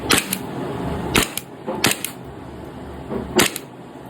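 A DB M1911 airsoft gas blowback pistol fires single shots, about four or five sharp, close cracks at irregular intervals over a low background.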